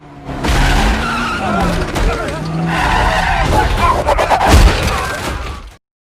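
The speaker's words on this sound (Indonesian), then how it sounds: "Alhasil, truk itu oleng dan terjatuh ke tepi jalan." A truck swerves and skids off the road in the 2020 disaster film Greenland, with loud, sustained tire screeching and engine roar building to a crunching impact, over film sound and voices.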